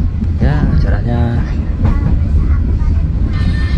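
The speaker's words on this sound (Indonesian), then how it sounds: "ini interior kereta api Airlangga ya, seperti biasa kereta kelas ekonomi ya" Steady rumble and rattle inside a running Airlangga economy-class passenger train, a continuous moderately loud bed of carriage noise with a voice talking over it.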